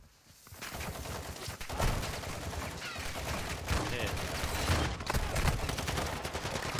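Rapid bursts of automatic gunfire crackle through a firefight in the video game DMZ, dense and fairly loud for most of the stretch, with a player's voice briefly cutting in.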